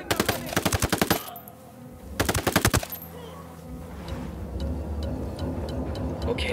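Automatic gunfire in the Ghost Recon Wildlands video game, two loud rapid bursts of shots separated by a pause, followed by lower rumbling game ambience and faint distant clicks.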